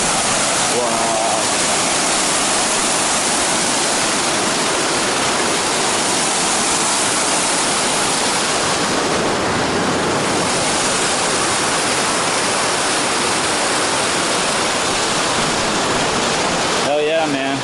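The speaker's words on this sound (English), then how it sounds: "we're a little bit closer to the waterfall now" Waterfall on the John Muir Trail near Mather Pass, heard up close as a loud, unbroken roaring rush of falling water that holds steady throughout with only a brief rustle at the end.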